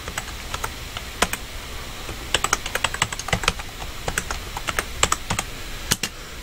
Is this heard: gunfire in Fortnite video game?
no